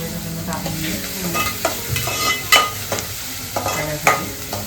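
Tomatoes frying and being stirred in a hot pan for a dried Bombay duck (bombil) dish, with steady sizzling and repeated scraping strokes of a spoon close up, no talking.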